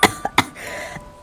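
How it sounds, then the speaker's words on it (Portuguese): A child character coughs in a voiced GTA 5 scene, three quick harsh coughs close to the mic followed by a softer throaty rasp, with no other sound around them. "Filho, o que você tá tossindo, filho?"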